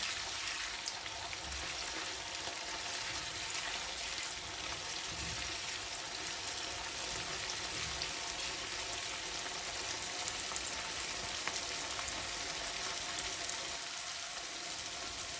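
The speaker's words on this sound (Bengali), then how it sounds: "অল্প পানি দিয়ে পেঁয়াজের সাথে আদা রসুনটা কষায় নিব" Ginger and garlic frying with onion in a little water in a pan, a steady soft sizzle and crackle that continues evenly throughout, faint and unaccompanied by talk.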